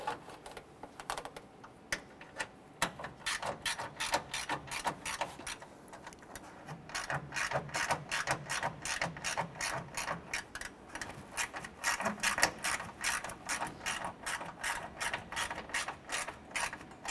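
A ratchet tightens bolts on a 2008-2012 Honda Accord A/C condenser and receiver drier assembly, a close, steady string of quick clicking strokes with brief pauses between runs.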